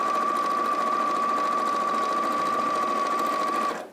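Sewing machine stitching a quilt-as-you-go tote bag, a fast, continuous whirring drone with a steady whine, heard up close and alone for several seconds before stopping abruptly.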